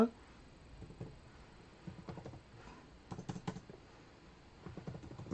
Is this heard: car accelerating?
no